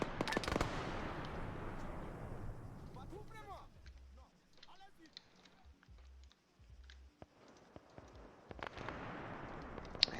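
Arma 3 gunfire opens with a loud burst of rapid shots, then fades into scattered distant cracks and pops over a quieter stretch before another volley rises at the end, with a voice talking between the shots.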